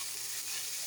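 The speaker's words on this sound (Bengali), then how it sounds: "এখন ভালো করে নাড়াচাড়া করতে হবে, এই মশলাটার সাথে মিক্স করে দিতে হবে।" Food fries in a pan while it is stirred and mixed with spices, giving a short burst of steady, bright sizzling and hissing.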